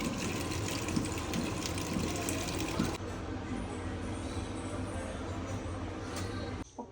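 Tap water runs hard over cleaned mutton pieces being washed, a dense continuous splashing rush that drops a little in tone partway through before cutting off near the end.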